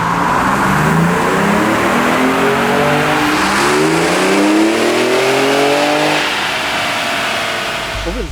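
A 2017 Ford F-150 Raptor on a stock factory calibration makes a dyno pull in fifth gear, its engine note climbing steadily in pitch for several seconds, loud and close, before cutting off at the end.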